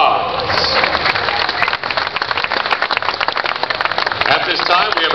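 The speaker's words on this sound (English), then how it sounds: "let's give them all a round of applause." Outdoor crowd applause at the Goodwood Festival of Speed starting line in front of Goodwood House during an Indianapolis 500 tribute, a continuous broad wash of clapping with talk mixed in.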